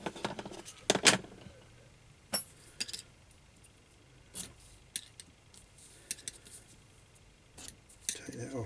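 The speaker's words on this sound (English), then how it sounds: "I'm going to cut these corners off" Scissors snip through the corners of sporran material in a few close, crisp cuts, followed by scattered handling clicks and rustles while a person talks.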